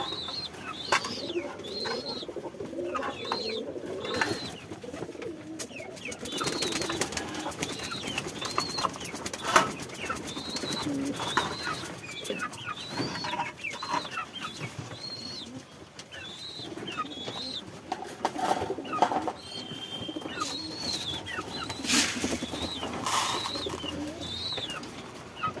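Pet pigeons coo steadily while pecking at a wheat mix, many overlapping low coos repeating close by, with occasional wing flaps and rustling but no speech.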